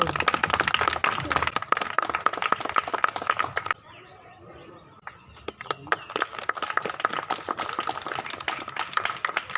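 Applause from an audience at a legal awareness event staged with a play and a lamp lighting, a dense run of clapping that drops out briefly midway, then resumes strongly with a voice heard over it.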